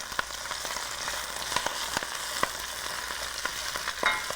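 Buckwheat noodles with fiddleheads sizzle steadily in a pan while being stirred, with repeated scraping clicks and spatters standing out over the constant hiss, close and alone with no talking.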